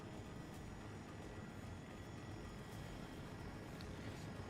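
Helicopters in Battlefield 2042 give off a steady, loud rotor and engine roar that fills the scene continuously, with faint sharper game sounds scattered on top.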